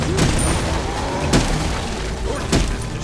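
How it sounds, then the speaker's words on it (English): A middle enemy tower crumbling in the video game SMITE: loud, dense game audio with repeated booming crashes about every second over a constant rumbling wash of battle noise. "Your team has destroyed a middle enemy tower"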